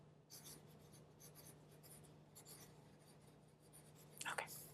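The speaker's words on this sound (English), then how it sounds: "So just sign here" Pen scratching across paper as a signature is written on a medical consent form, quiet and close in a soft-spoken nurse roleplay setting, with brief light strokes and a faint steady hum beneath.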